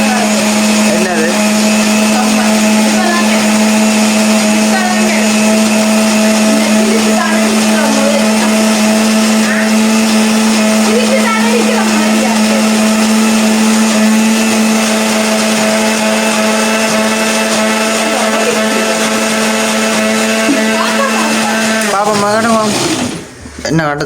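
Blender grinding red sambal, a loud continuous motor whine held steady up close for over twenty seconds, with a voice talking faintly underneath, then winding down abruptly at the end.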